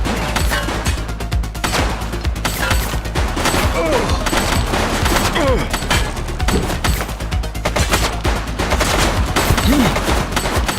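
Rapid bursts of gunfire in the police video game The Precinct, loud dense volleys of automatic shots rattling on continuously throughout.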